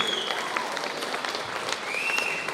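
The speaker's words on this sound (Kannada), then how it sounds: "ದಯವಿಟ್ಟು ಚಪ್ಪಾಳೆ ಮುಖಾಂತರ ಅವರಿಗೆ ಆಶೀರ್ವದಿಸಬೇಕಾಗಿ ವಿನಂತಿ" An audience applauding to bless an honoree at a ceremony, steady dense clapping from many hands throughout, moderately loud and continuous.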